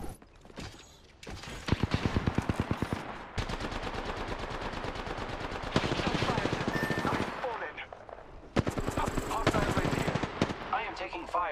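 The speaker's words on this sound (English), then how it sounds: "I am taking fire, friends." Automatic weapons chatter in an Apex Legends match: long, rapid bursts of gunfire from several guns overlap almost without pause, loud and close, with short gaps between volleys.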